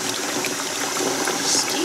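Very hot water gushing from a tap at a campsite, a loud continuous rushing stream heard close up and alone for a couple of seconds.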